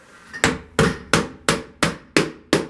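A hammer drives common nails into metal drywall corner bead during a bathroom drywall install, with seven sharp, evenly spaced strikes that are close, loud and alone.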